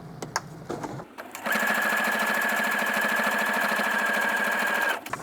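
A sewing machine stitches a Dollar Tree placemat pouch with zippers, running in one steady, fast, close mechanical burst of about three and a half seconds after a few handling knocks.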